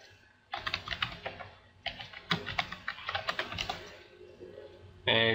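Quiet typing on a computer keyboard, with bursts of clicking keystrokes in uneven rhythm, short pauses between runs, and a louder keypress near the end.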